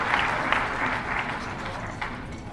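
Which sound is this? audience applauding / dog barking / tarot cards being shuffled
audience applauding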